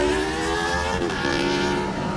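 Tricycle ride in the province: a steady, fairly loud motor drone with road noise runs through the whole ride.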